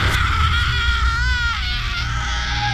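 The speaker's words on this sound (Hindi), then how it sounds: "राजकुमारी खौफनाक तरीके से चीखी।" A princess lets out a horrifying scream as a horror sound effect, a loud, sustained high wail with wavering pitch that rises and bends over a few seconds against a low rumbling backdrop.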